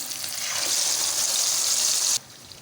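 Marinated mutton hits a hot pot with cumin and bay leaves for Hyderabadi dum gosht, a loud, close hissing sizzle that stops abruptly near the end, leaving a faint quiet background.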